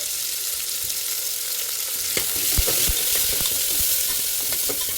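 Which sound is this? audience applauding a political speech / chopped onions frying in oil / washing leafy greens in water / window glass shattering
chopped onions frying in oil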